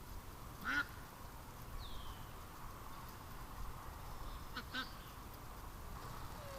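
A duck quacks a few times inside a shed, short, fairly faint calls spaced apart over a low, steady background hum.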